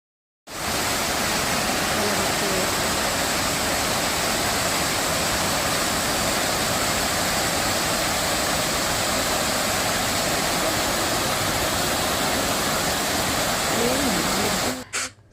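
A waterfall near Srikalahasti heard from a short distance as a dense, unbroken rushing roar that holds steady throughout with no pauses.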